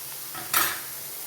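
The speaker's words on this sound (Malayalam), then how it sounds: "ഞാൻ ഫോർക്ക് കൊണ്ടാണ് ഇളക്കാറുള്ളത്" A fork stirs chopped leaves in a pan for a spinach-style thoran, giving one short, close scraping swish over a faint steady background hiss.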